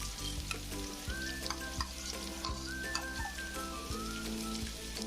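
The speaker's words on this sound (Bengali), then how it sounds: "পেঁয়াজ কুচি দিয়ে আমি একটু ভালোভাবে ভেজে নেব।" About a cup of chopped onion frying in hot oil, with cardamom and cinnamon already in the pot, giving a dense, continuous sizzle and crackle with regular knocks of a spoon stirring, close up and with no talk.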